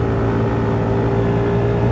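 A KYMCO G7 flagship sport-touring scooter with a PTM engine drones steadily as the throttle opens on a mountain road, a loud, close, continuous engine hum with no talking.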